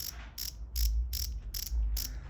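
A Hornet BMX freewheel hub buzzes in rapid clicking bursts, about six short ratcheting spurts in quick succession, close and fairly crisp.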